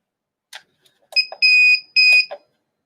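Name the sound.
heat press timer beeping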